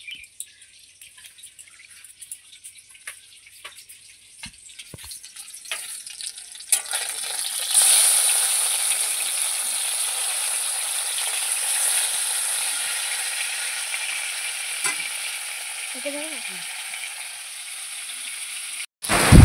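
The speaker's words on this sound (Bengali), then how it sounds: "মাছটা ওদিকে ভাজা হচ্ছে।" Catla fish frying in oil for a curry with pointed gourd and potato, a steady broad sizzle that swells louder partway through and holds at close range, with faint chirps in the background and no talking.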